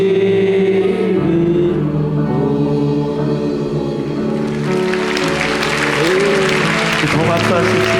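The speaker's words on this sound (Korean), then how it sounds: "더 박수하십시다. 주님은 박수받아 마땅하신 분이십니다." A church congregation at a Wednesday evening worship service claps, the applause swelling to a dense, loud wash in the second half, with music and voices running beneath it throughout.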